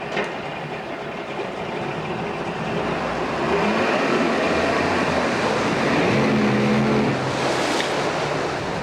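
A 1993 Force 70hp two-stroke outboard motor runs steadily up close, a continuous rough engine drone with a low rumble that grows slightly louder midway.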